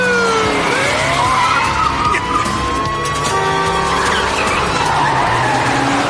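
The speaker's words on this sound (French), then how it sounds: "nous prenons en chasse un coupé sport rouge" Tires of a red sports coupe squeal and skid loudly during a police car chase, long sliding screeches over a roaring engine, close and intense.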